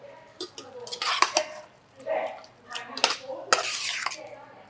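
Tomatoes added to a pot of Manhattan clam chowder in a busy restaurant kitchen, heard as clattering and scraping of a spoon against the pot in irregular bursts, close by, with some faint background voices.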